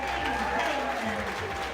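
Brief crowd applause at a live art battle event in Wichita Falls, a steady wash of clapping with voices mixed in.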